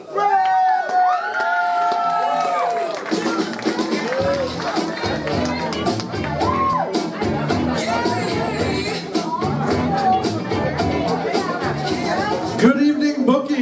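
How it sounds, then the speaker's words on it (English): A comedy club crowd at Bookie's Roadhouse welcomes a comedian to the stage with sustained clapping and cheering, mixed with loud voices and chatter throughout. "please put your hands together for Ray McGuff."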